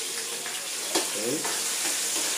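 Meat sizzles steadily in a hot pan on an indoor stove, a close, even crackle with a faint stir or clink partway through and no voice over it.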